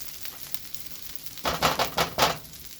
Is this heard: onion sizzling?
yes